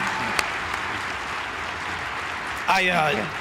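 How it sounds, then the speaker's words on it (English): A conference crowd at America Fest applauds a departing speaker with sustained, fairly loud clapping, then a voice cuts in near the end. "we'll give him a round of applause"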